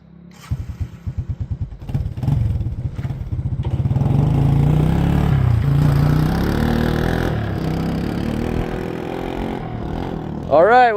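A 1983 Honda ATC200X engine swapped into a 1981 Honda ATC200 three-wheeler putters around nearby, its single-cylinder engine popping in a quick rhythm at first before settling into a steady, loud drone that rises again at the end.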